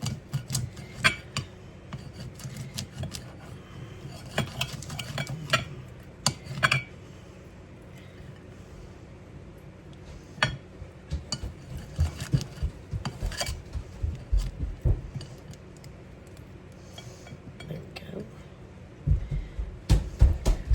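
A knife cuts through frozen sausage on a plate, giving irregular close clinks, taps and scrapes of metal on crockery, with quiet talk now and then.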